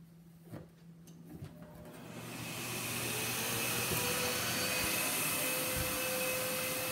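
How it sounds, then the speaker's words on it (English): A vacuum cleaner switches on after a few faint knocks and swells into a loud, steady whooshing roar as its airflow pushes balloons upward, holding constant to the end. "So the air from the vacuum pushes the balloons up in the air."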